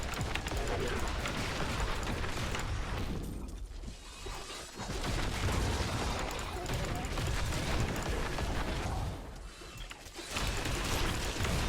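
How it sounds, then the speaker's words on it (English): Dense, continuous explosions and crashing effects from Diablo 3 Reaper of Souls hardcore Necromancer play fill the scene, loud and near-constant with two brief dips, amid fire-enchanted monsters. "So much explosion."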